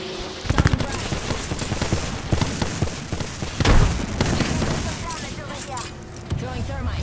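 A grenade explosion in the Apex Legends video game, with sharp blasts standing out from a steady spatter of gunfire, the loudest bang near the middle and another near the end.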